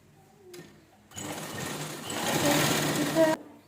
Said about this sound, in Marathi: व्यवस्थित आपण शिलाई करून घेऊया चारी बाजूने